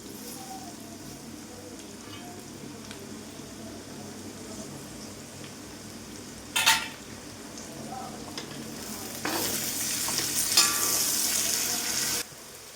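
Garlic, ginger, curry leaves and green chili fry steadily in oil for a fish pickle, a continuous close sizzle that swells louder near the end, with a brief clatter partway through.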